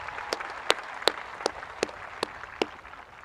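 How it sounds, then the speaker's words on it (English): Applause in a crowd at a high school graduation ceremony, soft and diffuse, with a few sharp nearby claps standing out at spaced intervals. "Please join me in giving everyone on stage a round of applause for all their hard work and dedication"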